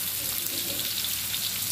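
Mixed vegetables frying in oil for egg fried rice, a steady, close, dense sizzle running unbroken and alone with no voices.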